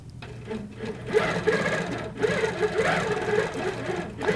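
A quilting sewing machine runs close by with a fast, steady mechanical whir and needle patter, pausing briefly now and then as stitching continues.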